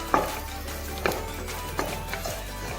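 Raisins and coconut roasting in a kadai, a faint soft sizzle under several sharp spoon-on-pan taps and scrapes as they are stirred.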